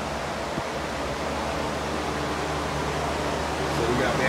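An electric fan runs steadily beside a 1992 Mustang GT with a 5.0/302 engine, giving a constant broadband whoosh that fills the whole clip at an even level.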